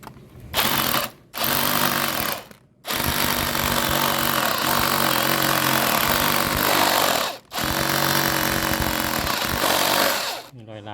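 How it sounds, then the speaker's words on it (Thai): A power drill bores with a small bit during a 5 kW rooftop solar panel installation, whining loudly in long continuous bursts separated by short pauses, with no talk over it. "ก็พยายามเจาะดอกเล็กก่อน"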